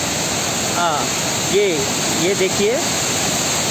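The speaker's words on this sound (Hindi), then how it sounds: "ओहो, ये पानी का बहाव, ये झरने की कलकल।" Bamni Falls in Purulia, West Bengal, sends out a loud, constant roar of rushing water while someone speaks briefly over it.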